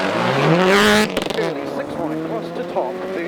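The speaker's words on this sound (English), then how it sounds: "Sounds like the engine's over-revved." Rally car engine over-revving after a missed third gear on a gravel stage in Raglan, New Zealand: a loud, rising howl that breaks off abruptly into uneven lower revving, close by, with a commentator talking over it.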